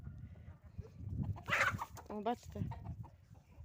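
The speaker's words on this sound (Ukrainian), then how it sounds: "Оце всі мої курочки." Hens cluck and squawk close by with rising and falling calls in a farmyard on a dark, gloomy day, while someone talks over them.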